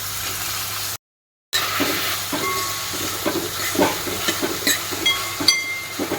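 Finely chopped onion and tomato sizzling in a hot pan for dal fry, a steady crackling fry with soft stirring clatter, cut off by a short silent gap before resuming.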